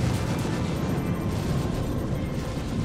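Ships trade fire in a space combat video game, a dense, continuous rumble of blasts and booms at steady loudness with no gaps.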